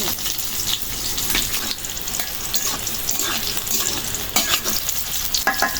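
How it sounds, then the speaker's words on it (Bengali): Garlic frying in oil in a pan, a continuous crackling sizzle broken by several sharp stirring scrapes, close and fairly loud with no voices. "রসুন ভাজা হয়ে গেছে"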